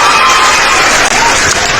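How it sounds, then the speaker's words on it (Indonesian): A loud crowd breaks into sustained applause and cheering, a thick wash of clapping hands that fills the space without pause. "Tepuk tangannya mana Bang Nandar ini? Mana tepuk tangannya?"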